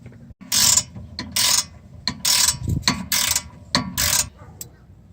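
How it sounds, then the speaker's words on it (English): Repeated ratcheting clicks from a 14mm wrench working the top brake caliper bolt on a 2008 Mazda 3 during a rear rotor replacement, coming in several loud close bursts with short pauses between strokes. "I had to use a 14mm wrench"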